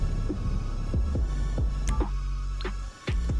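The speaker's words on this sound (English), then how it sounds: "right when I heard that donk click noise, I went ahead and hit play quick job" In GTA Online, a low donk and a click ring out over a steady game hum and a repeating low throbbing pulse, with a couple of brief higher clicks near the end and no talking.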